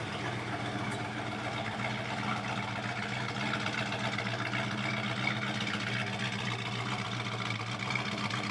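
A car's engine idles steadily outside the vehicle, a low even rumble with a constant hum that holds without change throughout.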